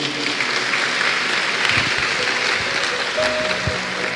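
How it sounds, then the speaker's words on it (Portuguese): Church congregation at a Holy Communion service gives a round of applause, a sustained rush of many hands clapping at fairly close range, steady and dense, with a few faint voices mixed in. "Vocês querem dar uma salva de palmas a eles?"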